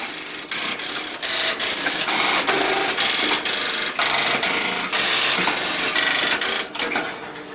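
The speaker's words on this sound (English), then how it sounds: "we have turned on the test routine of the line group" Electromechanical relays in a telephone exchange central office run a line group test routine, producing a dense, continuous, loud clatter of rapid clicks and buzzing that carries on unbroken.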